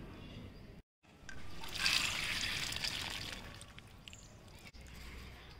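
Water trickles and drains off soaked, sprouting grains after washing, a close steady liquid dribble that swells and then tapers, cut by a brief silent gap near the start.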